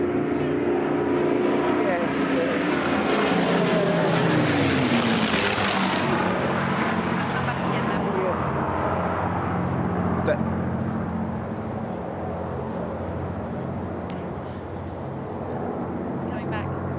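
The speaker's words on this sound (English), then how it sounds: "The Hurricane and Spitfire." Hurricane and Spitfire aircraft flying overhead during a birthday flypast, the propeller engines' drone swelling to a peak and slowly fading as they pass, with voices talking over it.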